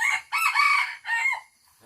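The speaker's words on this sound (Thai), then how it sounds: "อันนี้ฮะไก่ใหญ่เนาะ" A large rooster crows loudly and close by, one long drawn-out call broken into strained rising and falling phrases, with no talk over it.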